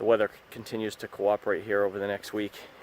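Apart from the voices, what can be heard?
None of the usual background noises is heard.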